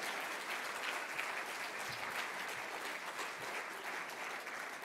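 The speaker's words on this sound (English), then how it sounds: "can I have a round of applause as we begin the Victorian Homelessness Achievement Awards for 2019?" Audience applause at the Victorian Homelessness Achievement Awards ceremony in 2019, a steady wash of many hands clapping throughout the room that holds even for several seconds.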